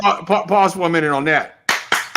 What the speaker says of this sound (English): Yeah, we gotta clap it up